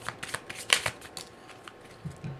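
Tarot cards are shuffled by hand in short riffling bursts and soft slaps, quiet and close, with brief pauses between the crisp flutters and no voices.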